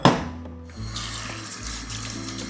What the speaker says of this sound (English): Rinse with water.